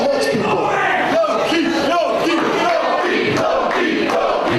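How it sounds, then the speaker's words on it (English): A wrestling crowd at an FWA Goldrush event roars and chants for Loki, a dense, loud wall of cheering with rhythmic shouted chants, while a commentator talks over it. "this crowd getting behind Loki now"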